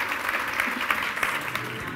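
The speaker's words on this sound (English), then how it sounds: "Big round of applause for Team Ruby." A studio audience at a couples' game show applauds steadily, producing a dense, even patter of many hands clapping at moderate volume for a couple of seconds.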